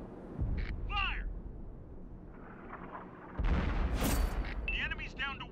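A tank cannon fires a high-explosive round in a video game, giving a heavy, booming blast that hits suddenly and rolls on under radio-style voices and beeping chatter. An earlier, softer rumble comes before the blast.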